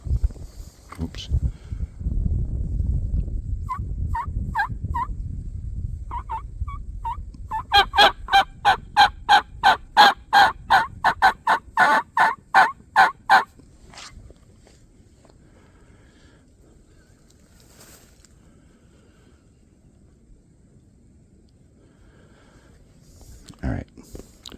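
Wild turkeys gobble in windy woodland, with a few short calls followed by a long, loud series of rapid gobbles, heard after a stretch of heavy wind noise and handling bumps.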